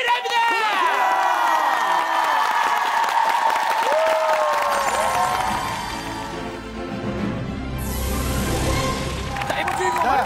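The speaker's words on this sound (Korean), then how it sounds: "퀵체인지 두 분에게 여러분들 힘찬 박수가 필요합니다" A TV variety show's studio audience cheers and claps over musical stings and sound effects, the crowd noise swelling and fading beneath loud studio audio.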